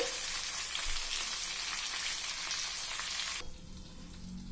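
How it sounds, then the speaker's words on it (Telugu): Eggplant masala frying in a covered pan over a low flame, a steady broadband sizzle filling the scene before dropping off sharply near the end, leaving a quieter crackle. "ఇలాగే లో ఫ్లేమ్లో పెట్టేసి ఒక ప్లేట్ పెట్టేసి 10-15 మినిట్స్ ఫ్రై అవ్వనివ్వాలండి"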